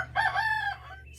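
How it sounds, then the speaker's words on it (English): A broody hen gives a single short, faint vocal cluck, a brief tonal call lasting under a second, heard alone against a quiet low hum. "Now what you don't see is there is another broody hen up under these two."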